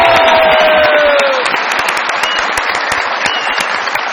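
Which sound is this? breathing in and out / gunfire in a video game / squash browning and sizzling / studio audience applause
studio audience applause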